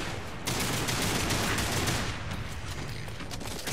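Dense gunfire from the video game Lost Planet 3, a sustained burst of rapid shots filling the whole stretch, loud and close, with a brief lull at the start before the volley kicks in.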